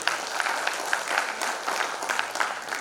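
Conference audience applause at a digital transformation conclave and awards inaugural session, steady and moderately loud crowd clapping with sharper individual claps standing out.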